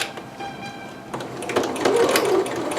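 A sewing machine stitches a McCalls 6701 dress, a close, steady mechanical whir that builds slightly louder over a few seconds of continuous running.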